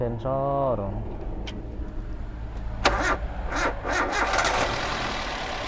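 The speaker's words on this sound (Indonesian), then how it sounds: "Dicek dulu mesinnya." A 2018 car that had sat unused for a week has its engine started, with a starter whir and electronic chime early on, then the engine catching and running at a steady idle while people talk nearby.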